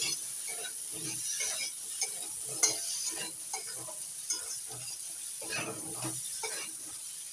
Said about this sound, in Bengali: আলুগুলো একটু ভেজে নিয়ে এবার দিয়ে দিচ্ছি পাকা কাঁঠালের বীজগুলো নাড়াচাড়া করে নিচ্ছি